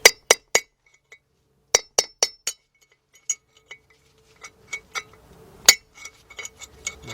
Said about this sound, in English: you're going to take a hammer and you're going to start tapping it down